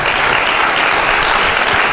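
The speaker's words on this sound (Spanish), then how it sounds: "Dele palmas al Señor." A church congregation claps together in sustained, dense applause filling the whole moment, loud and close, with no talk over it.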